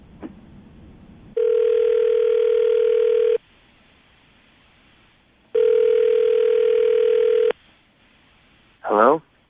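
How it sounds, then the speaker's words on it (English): A telephone ringback tone sounds while calling out, two long steady tones of about two seconds each separated by a pause, loud and clean, followed by a brief rising sound at the end. "we're going to call him right now, see if we can get him on the phone"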